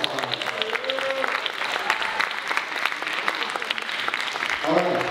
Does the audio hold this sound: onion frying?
no